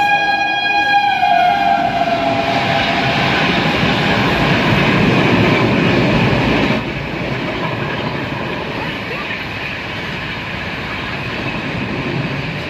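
An Amrapali Express train is stopped at platform 1 of Khurja Junction, with a loud, steady wash of rail and platform noise and a horn-like tonal call at the start. The level drops partway through.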